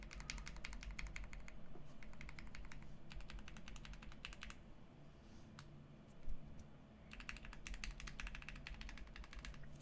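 Typing on a custom-built Polaris mechanical keyboard, quiet bursts of rapid keystrokes with short pauses between runs, close and faint.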